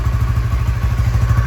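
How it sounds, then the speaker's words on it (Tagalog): A motorcycle engine idles while warming up after mixing different oils, a steady close low chugging with rhythmic pulsing and light mechanical clatter, no voices. "So painitin natin ulit yung makina"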